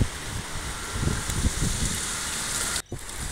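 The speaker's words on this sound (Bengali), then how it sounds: "টিপ টিপ করে বৃষ্টি পড়ছে।" Light drizzle falls outdoors under a cloudy sky, a steady hiss with soft, scattered patter and occasional low wind rumble, briefly dipping near the end.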